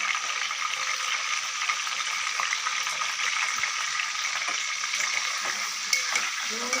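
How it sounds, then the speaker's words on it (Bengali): Potatoes frying with a little salt give a steady, dense sizzle with occasional stirring scrapes, close and continuous throughout, with no talk. "আলু ভেজে নেব, আলুটা ভাজবো শুধু অল্প নুন দিয়ে"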